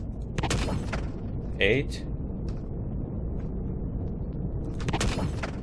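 Weapon shots fired at a turret in the space game Empyrion: a few sharp, spaced blasts over a dense low rumble, while someone speaks briefly between them.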